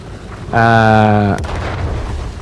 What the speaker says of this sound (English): Obviously artillery does try to take a shot at us, because artillery is the worst.